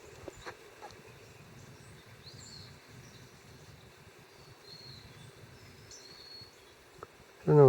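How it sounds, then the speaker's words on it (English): Small wild birds, including phoebes and chickadees, chirp faintly and sparsely at sunrise along a wooded hiking trail at Gladie, with soft outdoor ambience and a brief louder knock near the end. "I hear phoebes, chickadees, and I don't even know what else is in there."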